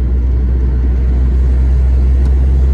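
Car traffic on a road in São Paulo comes through as a heavy, continuous low rumble of engines and tyres, loud and close, with no voices.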